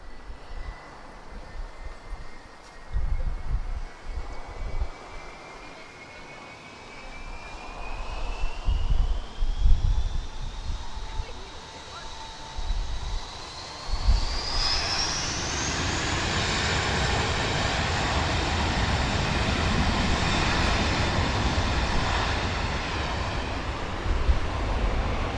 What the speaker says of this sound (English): This is an A321-231. V2533 engines with retrofitted sharklets.